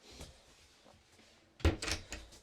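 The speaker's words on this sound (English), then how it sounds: "Down here, you've got 3 big, deep drawers." A big, deep drawer in a luxurious Auto-Sleepers Winchcombe Mercedes motorhome slides and thuds shut, a short close rumble and knock after faint quiet handling.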